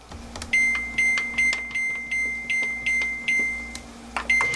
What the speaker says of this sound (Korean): 이렇게 해서 전자레인지에 넣을게요.